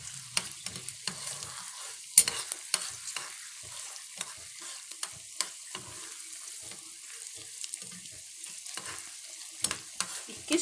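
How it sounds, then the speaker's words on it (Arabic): Onion frying in a pan for Egyptian kishk, a soft, steady sizzle broken by frequent clicks and scrapes of stirring, fairly quiet and close, with no one talking. "هقلي بقى هنا البصله."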